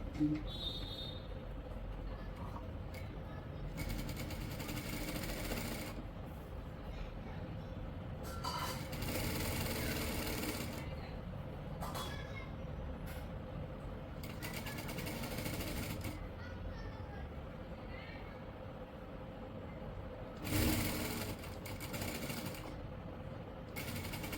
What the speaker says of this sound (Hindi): सेम यहीं से सिलाई लगाना शुरू करेंगे हम।